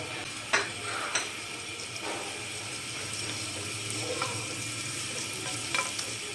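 Soft, steady frying sizzle of garlic-ginger paste in oil, with a few light clicks and scrapes of stirring over the hiss.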